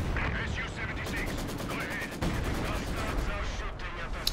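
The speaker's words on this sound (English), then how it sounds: "Is that heavy mortar trying to barrage the KV2?" Heavy mortar barrage and mixed gunfire in the Company of Heroes 2 battle game, falling around a KV-2 tank, with a dense run of rapid repeated blasts and shots under a continuous roar of combat noise.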